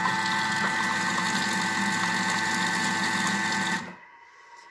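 A Thermomix whips cream with mascarpone into a firm whipped cream, its motor whirring loud and steady with a constant mechanical drone, then cutting out abruptly near the end, leaving near silence.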